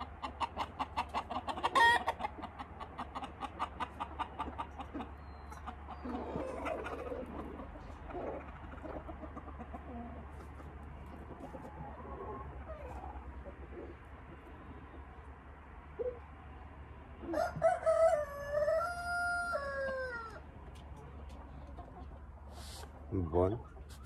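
A rooster crows loudly while other chickens cluck and call in response, with repeated crowing and clucking over a quiet background.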